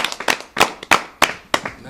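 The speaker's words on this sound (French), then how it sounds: "ça mérite des applaudissements." A few sparse claps sound in a loose rhythm, each one sharp and distinct, with about six hits spread over under two seconds.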